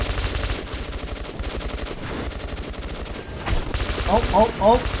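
Gunfire in the post-apocalyptic shooter Metro 2033 Redux, rapid repeated automatic bursts up close and loud, with shrieking creature cries near the end.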